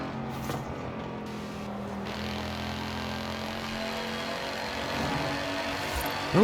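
A Mercedes-AMG wagon in Forza Horizon 5 hums along with a steady engine drone at moderate level, holding a fairly constant tone before a brief louder swell near the end, with no talking over it.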